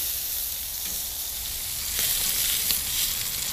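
Chicken thighs sear on a hot grill, giving a loud, steady, close sizzle with a bright hissing crackle that swells slightly near the middle and holds on without pause.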